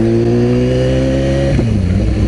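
A BMW S1000RR sport motorcycle engine holds a loud, high-revving buzz in the upper rev range, then its tone shifts and drops near the end, heard close with no voices.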